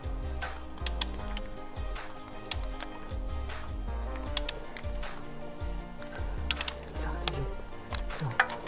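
A torque wrench clicks as it reaches set torque on a spark plug during a plug change on a BMW M43 engine, sharp ticks and clacks scattered over low mechanical rumble, with someone talking.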